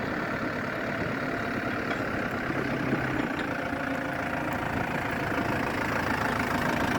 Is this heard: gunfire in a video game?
no